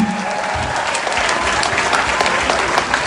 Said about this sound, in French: Il faut l'applaudir jusqu'à ce qu'il arrive ici